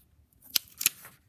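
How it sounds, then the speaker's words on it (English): Scissors cutting a paper quilt pattern, two crisp close snips in quick succession. "I find that small bites with the scissors make a better line than trying to cut."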